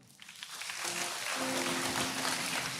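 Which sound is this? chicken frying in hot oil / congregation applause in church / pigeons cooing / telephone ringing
congregation applause in church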